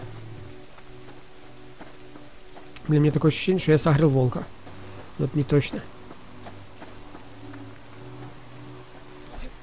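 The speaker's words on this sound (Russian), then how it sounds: "Начался дождик, да уж." Rain falls steadily in the survival game The Long Dark, a soft continuous patter under a low hum, and someone talks for a few seconds midway.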